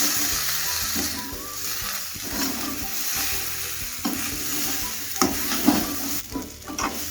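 Boiled potatoes frying in a pan for aloo masala fry give a loud, steady sizzle and hiss, with a spoon stirring and scraping through the pieces in uneven bursts.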